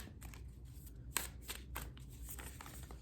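Quick riffling of shuffled tarot cards, a few short bursts with a sharp snap in the middle, close and quiet with no talking.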